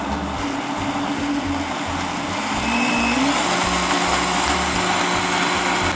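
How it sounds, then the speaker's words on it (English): A blender purées cauliflower soup, its motor a steady, loud whir that climbs in pitch as the speed is brought up, running continuously without any talk. "The last step to this, we're just gonna blend this down."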